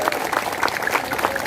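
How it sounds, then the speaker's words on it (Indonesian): Brief burst of audience applause for lawyers after a court hearing in Bekasi, a short stretch of moderately loud, overlapping claps from a modest group without any voices. "Tepuk tangan dong buat lawyer kita yang hebat ya."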